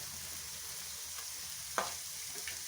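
Onion and capsicum sauté in a pan with a soft continuous sizzle, broken by a few faint stirring scrapes, quiet and close with no talk.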